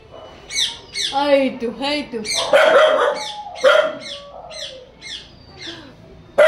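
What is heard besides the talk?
birds calling near a house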